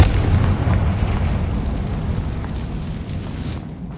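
A fire spell in the video game Hogwarts Legacy erupts in a loud, rumbling blast, a dense roar that fills the space and slowly fades over several seconds, heard alone without talk.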